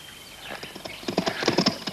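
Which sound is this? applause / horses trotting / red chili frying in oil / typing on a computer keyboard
horses trotting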